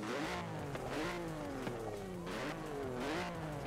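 A BMW i8's three-cylinder engine in the Forza Horizon 4 racing game revs and drones steadily, pitch rising and falling in repeated sweeps, heard alone and fairly quiet.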